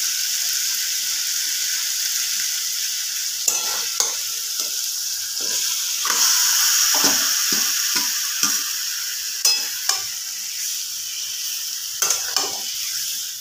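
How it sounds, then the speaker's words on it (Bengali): Chicken frying in a pan with ginger, garlic and marinated spices, sizzling steadily while a spoon repeatedly scrapes and stirs in uneven bursts, close and fairly loud. "এবার দিয়ে দেব আদা রসুন, এই ম্যারিনেট করা মশলা।"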